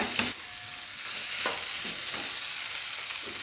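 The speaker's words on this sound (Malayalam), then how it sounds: "മാഷ് ചെയ്തെടുക്കാം." Cooked fish filling being mashed and stirred in a hot pan, giving a continuous sizzle with soft scraping strokes at intervals, close and fairly quiet, with no talking.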